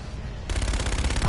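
Rapid automatic fire from the NV4 rifle in Call of Duty Infinite Warfare kicks in after a brief lull and continues as a fast, steady burst of loud shots.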